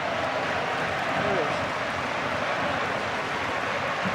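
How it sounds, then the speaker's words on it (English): Rugby crowd of Wakefield fans at a Challenge Cup semi-final between Wakefield and Warrington, a steady wash of cheering and applause from a large stadium crowd, continuous and fairly distant. "Look at the crowd there, though."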